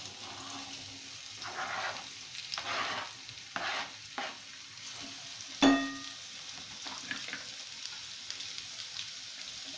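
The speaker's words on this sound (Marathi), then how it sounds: "आता कांदा टाकून देते कढईमध्ये।" Sliced onion sizzles and crackles in hot oil in a kadhai while a spoon stirs and scrapes through it in repeated bursts, with one sharp clatter near the middle; no one speaks.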